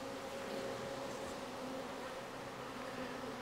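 Honey bees and dark drones buzz steadily in an open hive during a queen-breeding inspection, a dense, continuous hum held close and even for the whole stretch, with no talking.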